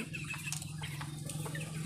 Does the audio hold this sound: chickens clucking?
yes